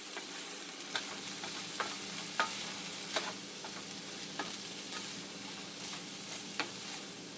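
Rice stirred and frying in a hot pan for fried rice, a steady sizzle with regular scraping strokes of the spoon about once every second, close and continuous with no talking.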